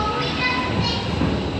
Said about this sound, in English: Farmyard Flyer, and I've got the entire train to myself.